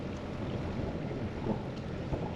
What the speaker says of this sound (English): It's very windy here, by the way.